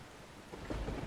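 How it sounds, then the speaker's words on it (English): Rain from the storm chasing video game Outbrk, a soft steady patter with a faint low rumble swelling midway, quiet and distant with no talking. "Very rainy."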